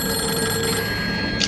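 A telephone rings indoors with a steady electronic ring lasting throughout. The tone is moderately loud and close, and nobody speaks over it.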